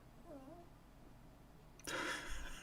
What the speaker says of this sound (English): that was my dog squeaking